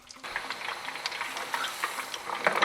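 Pork collar pieces fry in a wok for Chinese takeaway-style special fried rice. A soft, steady sizzle is broken by scraping stirs, and no one speaks.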